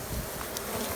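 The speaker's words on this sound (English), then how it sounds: "Yeah, a good number of bees in there." Honey bees buzz steadily inside an opened hive box during a winter hive check, a dense, close, continuous drone with no voices over it.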